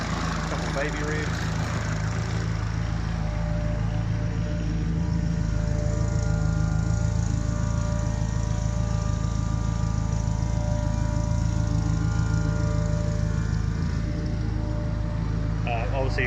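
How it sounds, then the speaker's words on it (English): Fuel pumps in a widebody Honda Civic EK9 race car with a turbocharged K20 engine run continuously, a loud, steady mechanical whine and drone close by, unbroken throughout. "Obviously fuel pumps in this, so as you can hear, are incredibly loud."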